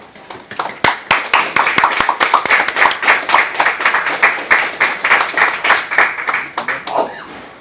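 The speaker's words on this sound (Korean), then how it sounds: "다시 한번 뜨거운 박수로 환영해 주시기 바랍니다." An audience at a launch ceremony for a North Korea–focused internet broadcast claps in a rising, rhythmic burst of many hands, loud and close, before the applause fades away.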